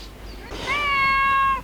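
A black cat gives a single clear, drawn-out meow lasting about a second, close and moderately loud over quiet outdoor background.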